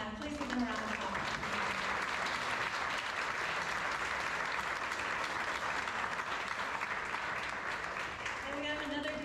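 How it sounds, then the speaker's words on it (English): A crowd applauds at a public civic event in Tampa, a dense, steady clapping that fills the whole stretch, with a voice briefly audible near the start and end. "Please give them a round of applause."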